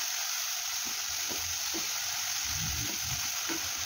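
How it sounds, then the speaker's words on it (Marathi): Ground chilli-garlic paste fries in oil for an aloo matar pulao, giving a dense, even hiss of sizzling throughout with a few soft stirring taps. "यामध्ये आपण तयार केलेले वाटण टाकून घेऊया आणि तेही तेलामध्ये फ्राय करून घेऊया"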